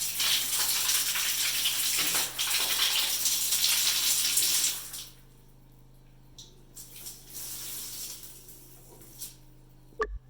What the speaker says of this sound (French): pour tester les côtés d'eau chaude, j'ai fait un couplage sur la colonne de douche